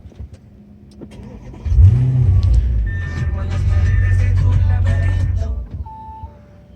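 An Audi S7 that had trouble starting after a new key was made cranks and fires up, then settles into a loud, steady idle close by before the engine noise drops away.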